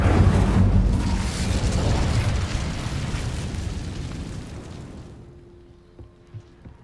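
Confringo and Incendio spell blasts from the video game Hogwarts Legacy boom loudly together, a heavy rumbling explosion that holds for several seconds and then fades, leaving faint ticks behind.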